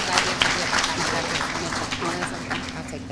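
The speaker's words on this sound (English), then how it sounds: "So Dr. Farron McEntee definitely deserves a hand clap." Applause from the audience at a university lab coat ceremony, a dense, steady wash of many hands clapping at moderate loudness for about three seconds, with some voices mixed in.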